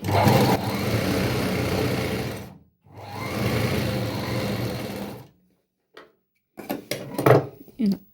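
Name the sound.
sewing machine stitching a petticoat seam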